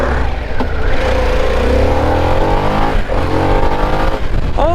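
A 2024 Harley-Davidson Pan America motorcycle engine revs loud and close, its pitch climbing steadily through a sustained pull, then dipping and surging again at the end.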